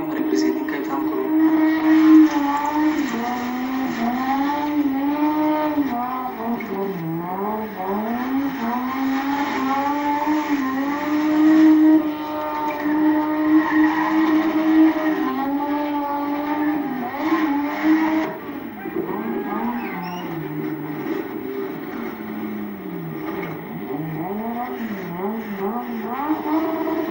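Black BMW spinning at a South African spinfest event, a sustained high engine rev with loud wavering tire squeal that rises and dips continuously for nearly half a minute, close and dominant with crowd noise underneath.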